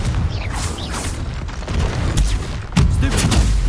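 A Confringo blasting spell cast in Hogwarts Legacy lands as a booming blast amid ongoing combat noise, with sharp explosive bursts near the end, loud and close.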